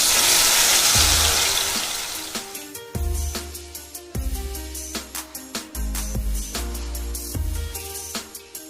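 Thick cashew and onion paste dropped into hot oil for a green chicken curry, frying with a bursty sizzle that swells in waves, several sharp hisses and crackles near and loud with no talking.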